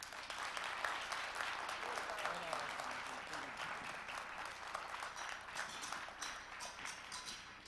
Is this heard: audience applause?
yes